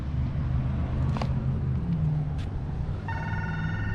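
A telephone rings with a steady electronic trill over the rumble of a 2009 Lexus LS460 engine, starting partway through.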